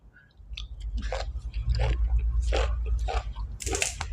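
Close, loud wet chewing of liver wrapped in vegetables, with moist squishing and crunchy bites repeating steadily throughout.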